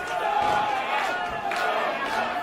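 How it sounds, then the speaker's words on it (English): Wrestling crowd at an indie show rallying behind a struggling wrestler, a loud surging mass of chanting and shouting voices swelling in waves, with a commentator's voice mixed in. "Crowd rallying behind Shogun Jones, trying to will him to fight back"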